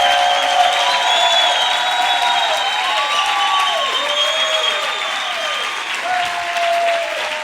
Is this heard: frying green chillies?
no